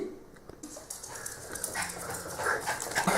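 A small dog whimpers and gives short barks, close and moderately loud over a busy, noisy indoor background.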